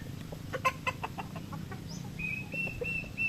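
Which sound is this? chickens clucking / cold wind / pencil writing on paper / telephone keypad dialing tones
chickens clucking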